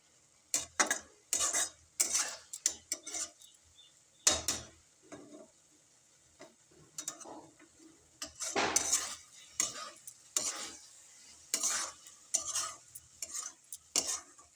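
Maggi noodles stirred in a pan on a new tiled stove setup, a series of sharp scraping and clinking utensil strokes against the metal in irregular bursts, close and fairly loud, with no talking.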